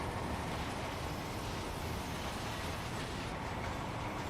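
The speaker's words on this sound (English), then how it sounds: "We got a new oil train." Freight oil train from a railway simulation game rolling steadily along the track, a continuous broadband rumble with steady wheel noise, held at an even level throughout with no talking.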